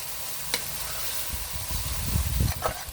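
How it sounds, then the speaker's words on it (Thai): Glass noodles stir-fried with chicken and cabbage in sweet dark soy sauce, giving a steady sizzle with occasional sharp scrapes and clacks from stirring, growing louder and busier toward the end, with no talking. "แล้วเอาวุ้นเส้นลงเลยนะคะ เอาวุ้นเส้นลง"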